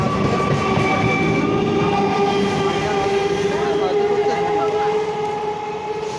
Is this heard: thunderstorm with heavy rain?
no